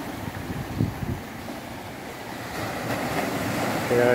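Steady roar of ocean surf breaking along the Panama coast, a broad wash of waves mixed with wind rumble on the microphone, swelling slightly louder toward the end with no voices.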